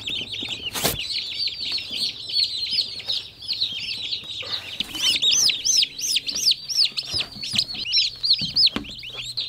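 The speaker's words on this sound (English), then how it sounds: "Chicks. Turkeys." Turkey chicks on a homestead give a rapid stream of high, thin peeps and chirps, several birds overlapping close by, with a few clunks and rustles underneath and no talking.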